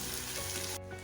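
Dried red chillies and curry leaves crackle in hot oil as a tadka for kadhi pakora, a dense steady sizzle that cuts off sharply near the end of the brief moment.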